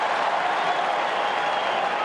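Crowd roar and applause at a 2011 AFL match between Fremantle and the Western Bulldogs, a dense, steady wash of clapping and cheering from a large stadium audience that holds level throughout with no clear break.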